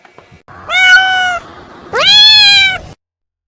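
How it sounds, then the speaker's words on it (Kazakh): Two clear, close cat meows come one after the other, the second longer and rising in pitch, with silence around them. "мысық"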